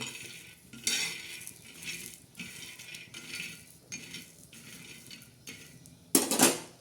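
Peanuts roasted in a pan, stirred with a utensil in bursts of rattling, scraping and clinking against the metal, close up with short pauses between strokes and a louder clatter near the end.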